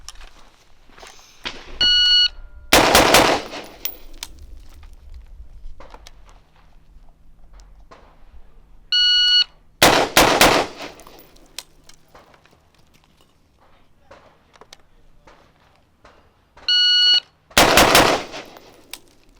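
Carbine fired at practice targets in three loud, sharp bursts of shots spaced several seconds apart, each preceded by a short electronic beep from a shot timer, with quiet footsteps and shuffling between strings.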